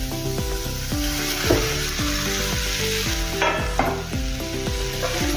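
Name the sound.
potatoes frying and sizzling in a pan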